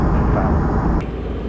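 A 12v Cummins diesel truck engine drones while driving, heard from inside the cab as a loud, continuous low rumble with steady broadband road and engine noise.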